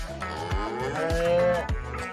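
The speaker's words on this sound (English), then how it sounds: "the first cow in her family to learn how to fly" A cow moos loudly and continuously over about two seconds, a deep drawn-out bellow with rich harmonics, alone and close, with no talk.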